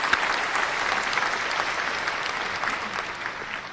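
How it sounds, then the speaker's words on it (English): An audience breaks into a dense round of clapping that stays strong and steady, then eases slightly toward the end. "I need a round of applause for that one"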